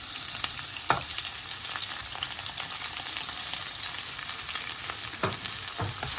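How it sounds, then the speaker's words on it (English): Three medium onions sautéing with whole spices including cinnamon sticks in a hot pan, a continuous close sizzle and fry with occasional scraping stirs and sharp clicks from a utensil. "I'm going to add 3 medium-sized onions."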